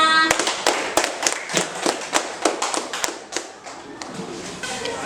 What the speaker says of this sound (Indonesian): Tepuk tangan untuk Melona.